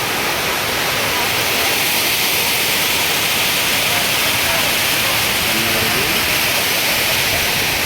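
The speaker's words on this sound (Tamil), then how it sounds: "மேலே பாருங்கள் மேலேருந்து அருவி கொட்டுது" A waterfall pours down from above at a scenic bathing spot, producing a loud, constant roar of rushing water that fills the whole scene without a break.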